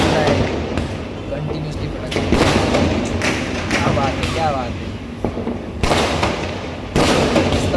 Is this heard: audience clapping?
no